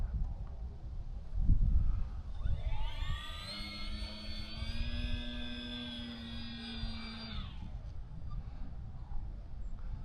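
A Durafly Tundra V3 RC plane in flight, heard from its onboard camera: a steady electric motor whine swells up, holds for several seconds, then cuts away, over constant rushing wind noise.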